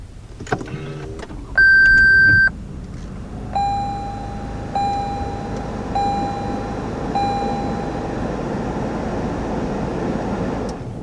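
A 2020 Lexus ES 350 F-Sport starting by push button, with chime tones and a brief electronic beep before the engine turns over into a steady, quiet idle close by.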